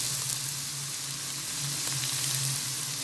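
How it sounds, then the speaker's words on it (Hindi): Cumin seeds frying in oil with onion and eggplant for a tangy pickled-style eggplant dish, a steady close sizzle and crackle continuing throughout with no talking. "ये ज़ीरा फ्राई करूंगी मैं इसके अंदर।"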